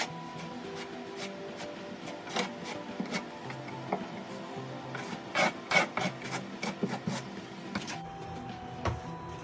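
A trowel spreads tile mastic across a kitchen wall for a backsplash, producing close scraping and rasping strokes in irregular bursts, with some sharper scrapes midway through and no voices.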